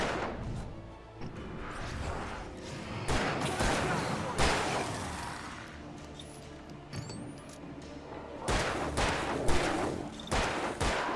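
Gunfire in the video game Alan Wake, bursts of shots and crashing impacts in quick clusters over a game soundtrack, loud and dense, with a player talking now and then.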